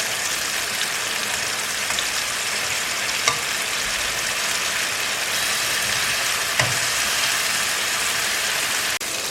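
Chicken pieces frying on a grill pan, a steady, dense sizzle that runs throughout with a few faint clinks, no voices.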